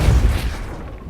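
A Depulso spell is cast in Hogwarts Legacy: a short, heavy, low thump-like blast that decays quickly into a soft hiss, loud and close, heard alone.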